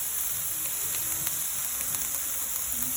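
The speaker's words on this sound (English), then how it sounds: "Okay, sizzle, sizzle, sizzle." Ground beef and garlic for sloppy joes sizzle steadily in a hot pan, a close, continuous hiss dotted with small crackles and pops, with no talking.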